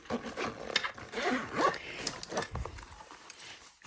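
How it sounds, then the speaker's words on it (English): Zipping a budget travel makeup brush bag closed: quick, scratchy zipper pulls with rustling handling, close up, with no talking. "so it's really easy to just fill out and zip up."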